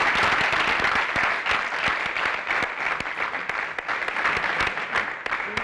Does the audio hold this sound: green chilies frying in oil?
no